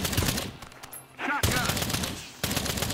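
Sustained AK-47 automatic fire in the co-op shooter Earthfall, with loud rapid bursts that break off briefly mid-clip and then resume, mixed with other game sounds.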